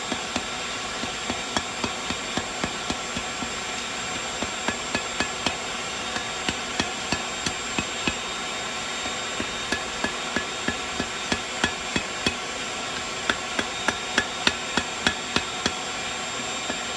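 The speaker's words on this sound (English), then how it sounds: "We'll pull the steel out, give it a real light couple taps." A hammer gives hot steel light taps for forge welding cable Damascus, a steady series of sharp metallic strikes over the constant roar of the forge.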